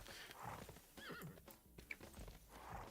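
Horse hooves clip-clop and a horse whinnies in the Civilization VI strategy game, with hoofbeats and neighing running through the moment at moderate loudness, alone without talk.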